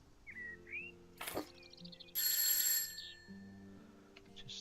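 A doorbell chime in the House Flipper video game gives a short bright ringing tone, quickly overlapping other light game effects and soft bird-like chirps, with no talk.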